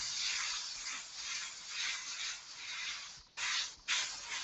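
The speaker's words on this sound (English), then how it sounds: "Spraying from around about 4 to 5 centimeters away." An airbrush sprays paint onto a skull from a few centimetres away, giving a close steady hiss that drops out briefly twice near the end and then resumes.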